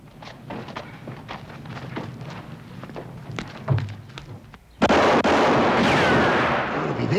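Gunfire in a western film, with scattered dull thumping shots and clatter at moderate distance, then a loud sustained burst of blasting noise taking over the last few seconds.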